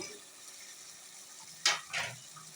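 Turnip pieces frying with meat (gosht) in a pot give a steady low sizzle, then two sharper scraping stirs near the end, with no talking.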